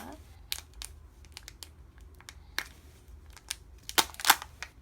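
A Kinder Joy foil wrapper is crinkled and torn open close by, a few sharp rustles spread out, then a cluster of louder ripping crackles near the end over a quiet background.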